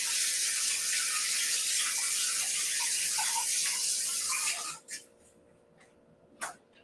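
Hands being rinsed under a running kitchen tap to wash off oil: steady splashing water stream for several seconds, then it cuts off abruptly, followed by a couple of brief drips and a short splash.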